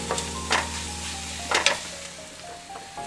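Grated carrots are tipped into a pan of frying green beans and stirred, giving a steady sizzle with a few louder scraping stirs and rustles close by.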